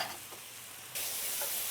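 Pork and bok choy stir-frying in a hot pan, a steady broadband sizzle that jumps louder partway through as the food is tossed, with no voices.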